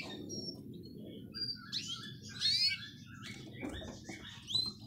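Twenty-day-old canary chicks that have just left the nest and their parent canaries give faint, high chirps and short twittering calls over a steady low background hum.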